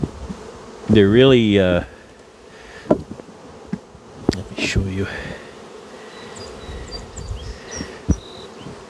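Honey bees buzzing around a caged virgin queen in a hive, a dense close hum with loud wingbeat swells as individual bees pass, while a person speaks briefly over it amid occasional clicks and knocks.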